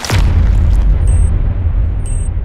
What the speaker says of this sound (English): Is that a bomb?